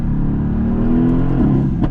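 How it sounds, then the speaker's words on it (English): Mercedes-AMG GT S engine and exhaust in sport mode, a loud, steady close-up roar with a deep rumble that swells slightly and rises in pitch near the end, alone without talk. "The exhaust is absolutely awoken"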